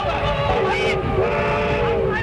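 A cartoon train runs along with a continuous rumbling rattle beneath a sustained, wavering whistle-like tone, loud and close throughout, with shouting voices over it.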